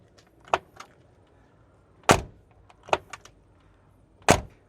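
A few sharp solid thumps of a Mercedes G-Class door shutting, spaced apart with quieter clicks and rattles between, close by with no talking.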